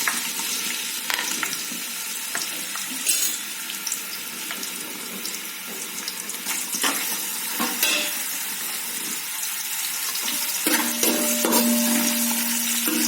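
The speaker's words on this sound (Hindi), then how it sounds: "उसके बाद हम इसमें प्याज डालेंगे थोड़ा सा।" Onion goes into hot oil with cinnamon stick, cloves and shahi jeera, raising a bright, steady hiss. Scattered scrapes and clinks sound close by, and a short tonal hum comes in near the end. No speech.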